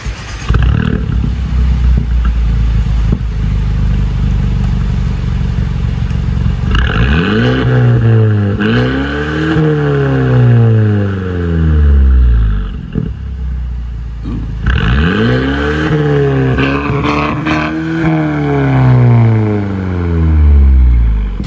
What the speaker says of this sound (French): Monsieur, vous faites un petit peu trop de bruit avec votre véhicule